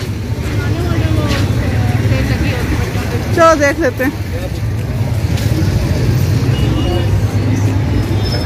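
Dense street traffic and crowd bustle fill Saddar Bazaar in Rawalpindi during the last days of Ramzan: a steady low engine rumble with a brief horn-like burst midway, while someone talks over the noise.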